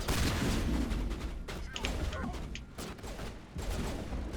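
Sniper rifle shots ring out during a firefight in Mass Effect Legendary Edition, with a few sharp cracks standing above a steady wash of battle noise and rumble.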